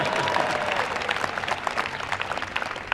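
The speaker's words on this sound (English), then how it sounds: "That's worth applause too." Audience applause at a political speech by a Kenyan senator, a dense, steady wash of clapping from a large crowd that holds loud and continuous throughout.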